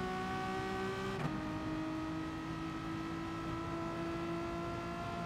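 A Gr.4 race car engine in GT Sport at Dragon Trail Gardens drones steadily at high revs, with a sharp pitch drop as it shifts gear, then holds a sustained whine.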